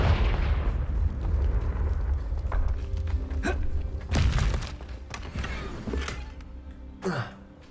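A Confringo blasting curse in Hogwarts Legacy goes off with a loud boom at the start, followed by a rumbling decay and a few sharp cracks and impacts.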